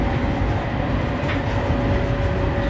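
Steady, loud rumble of a moving Indian train on a 12-hour journey, heard from inside the carriage as a continuous low roar with a faint rhythmic clatter.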